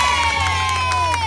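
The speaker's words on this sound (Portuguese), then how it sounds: "Uma salva de palmas pra Jane!" Crowd at a mother's birthday party cheering for a young girl named Jane, loud excited shouts and children's high voices with some clapping, close and continuous.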